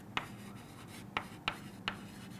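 Notes are written on a board in four short, distinct strokes, each a quick scratchy tap against a low, steady room hum.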